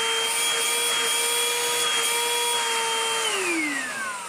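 Cordless Vytronix NC22 vacuum cleaner running steadily after a restoration, a loud, close, continuous motor whine with a weak 100-watt suction motor, its pitch dropping slightly near the end as it begins to wind down.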